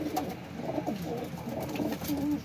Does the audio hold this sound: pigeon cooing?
yes